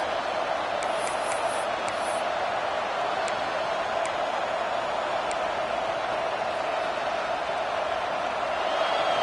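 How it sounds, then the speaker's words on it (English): Football stadium crowd on a third down, a steady broad roar of many voices at moderate loudness with a few faint whistles or shrill tones near the start. "Decibels rising as the crowd gets behind this defense on 3rd down"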